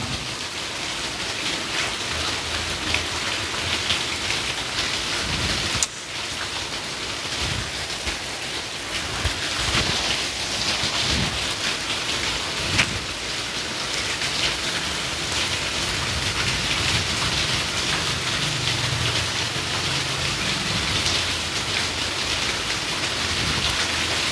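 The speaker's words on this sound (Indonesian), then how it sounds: "Ternyata hujan lebat sekarang." Heavy rain falls steadily on surfaces as a dense, continuous hiss, with a few sharp cracks and low rumbles of thunder breaking through, no voices present.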